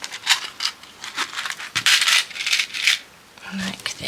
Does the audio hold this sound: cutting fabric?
yes